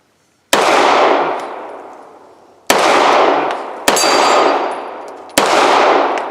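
Four loud, sharp gunshots from a Girsan Regard MC pistol, a Beretta 92FS clone, each crack ringing out and decaying before the next, spaced irregularly about one to two seconds apart.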